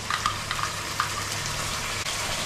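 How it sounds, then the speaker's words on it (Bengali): Onions fry in oil with ginger and garlic in a pan for a duck curry, giving a continuous close sizzle with faint scraping stir sounds throughout. "পেঁয়াজ ভাজা হয়ে গেছে"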